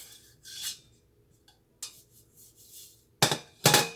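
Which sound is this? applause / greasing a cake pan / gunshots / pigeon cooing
greasing a cake pan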